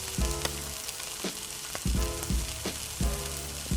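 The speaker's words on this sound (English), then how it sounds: "Doing about a tablespoon of oil in the pan, heat it on medium, and then we're going to chuck our onions in there." Sliced onions frying in about a tablespoon of oil in a pan give a continuous loud sizzle, broken by repeated low thumps and scrapes as they are stirred.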